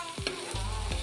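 Banana stem and potato frying in a pan, a steady low sizzle with a few soft scraping strokes of stirring, close up and with no talk.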